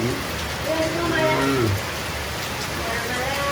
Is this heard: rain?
yes